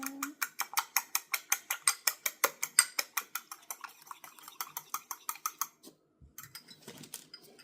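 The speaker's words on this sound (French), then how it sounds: "Je bats l'œuf comme ça." An egg being beaten for an almond-chocolate galette, a fast, steady run of close, light clicking strokes against a bowl, slowing and fading near the end.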